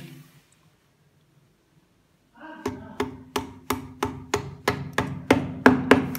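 A small hammer tapping a fitting tight, with wood packing filling the gap, during electrical work: about a dozen sharp, evenly spaced close knocks following a quiet pause.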